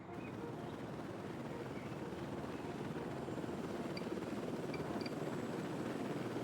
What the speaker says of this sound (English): There goes the helicopter. Let's see. It's going to start taking off, I think. There we go. Helicopter is taking off.